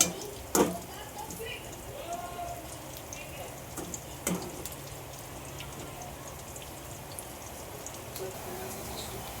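Soya chunks deep-fry in hot oil to a golden colour, giving a steady close crackling sizzle with a few louder pops near the start; a voice speaks over it.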